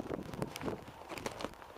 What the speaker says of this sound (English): So, another cold, windy day.